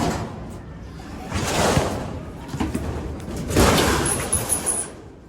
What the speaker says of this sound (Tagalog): Ang hirap buksan ng mga pintuan na ito.